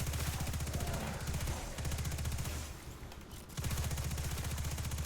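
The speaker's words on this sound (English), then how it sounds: "Machine guns can pump out a lot of damage" Rapid machine gun fire in the sci-fi shooter Destiny, sounding as dense sustained bursts that pause briefly near the middle and then resume at full force.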